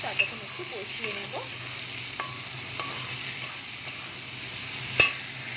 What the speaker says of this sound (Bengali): এবার এটাকে কাঁচা গন্ধ যতক্ষণ না যাচ্ছে আদা রসুনের, ততক্ষণ একটু কষিয়ে নেব।